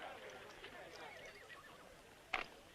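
A horse neighs in a Western film scene, giving a wavering whinny with a sharper burst near the end, fairly faint and heard alone.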